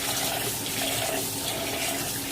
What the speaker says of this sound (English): Rinse it until the water is almost clear.